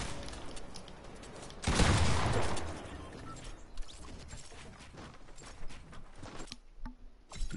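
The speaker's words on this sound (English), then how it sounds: "We just got eliminated with an SMG." Burst of submachine-gun fire in Fortnite, a large loud cluster of rapid shots early on, then scattered lighter clicks and mechanical game sounds trailing off into near silence.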